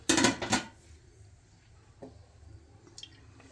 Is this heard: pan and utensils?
yes